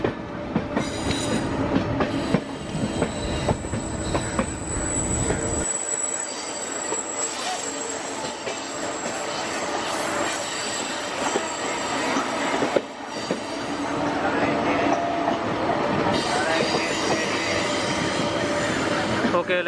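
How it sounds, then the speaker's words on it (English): A three-phase electric local train pulls into Chennai Central, its wheels squealing loudly and continuously over the rails, with carriage rumble and occasional clatter building and easing throughout. "a 3-phase local is entering Chennai Central"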